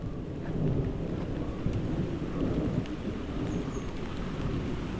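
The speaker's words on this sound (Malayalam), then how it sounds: "അടുത്ത മഴ പെയ്തു തോരാൻ പാടാ ഇനി" Outdoors during a fishing outing, heavy rain falls steadily while thunder rolls in a continuous low rumble. The sound is dense and even throughout, with no talking.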